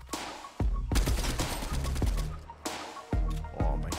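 Video game gunfire while shooting players, bursts of shots at about 0.6, 1.0, 2.0, 3.1 and 3.6 seconds, each followed by loud, booming low rumble, close and punchy with no talk over it.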